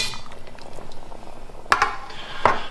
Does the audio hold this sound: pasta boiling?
yes